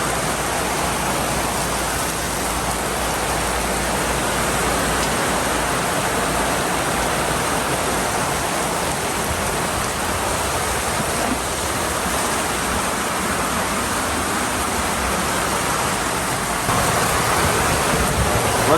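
Heavy rain pours down outdoors during a thunderstorm, a dense, constant hiss and roar that stays loud and unbroken throughout with no voices.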